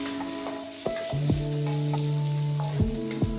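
Shallots and garlic sautéing in a pan of oil for Padang-style tauco green beans, a steady close sizzle broken by a few clanks and scrapes of a spatula, with no talking.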